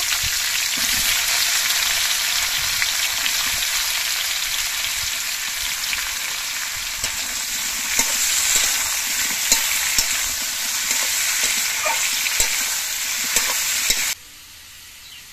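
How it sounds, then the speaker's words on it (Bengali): Boiled jackfruit pieces fry in oil in a wok, giving a loud, steady close hiss with occasional light stirring taps, with no voices, cutting off abruptly near the end. "এই তেলের মধ্যে আমি সেদ্ধ করা এঁচোড়গুলো ভেজে নিচ্ছি"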